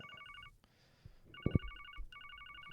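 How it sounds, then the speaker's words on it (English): Telephone ringing in the video game Trails From Zero, fast electronic trilling rings in three bursts separated by short gaps, with a faint voice and thumps in between. "How long can I leave this telephone ringing?"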